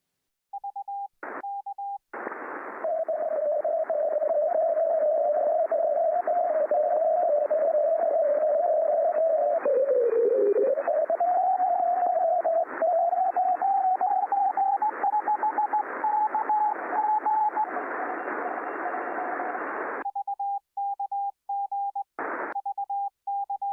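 A radio receiver plays a steady humming tone over hiss, its pitch dipping and sliding upward as auroral space weather disturbs the signal, with short steady beeps before and after.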